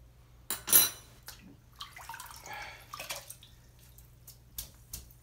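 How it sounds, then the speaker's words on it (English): A spoonful of water taken from a shaving scuttle, with a bright metallic clink of spoon on ceramic followed by short splashes and drips, close and quiet in an otherwise still room. "I'll just start with a spoonful of water here"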